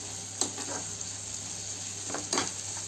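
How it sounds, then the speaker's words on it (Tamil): Three tomatoes sautéing in a pan for butter chicken give a soft, steady sizzle over a low background hum. Two brief bursts of stirring stand out, and no one speaks. "தக்காளி நல்லா வதங்கட்டும்"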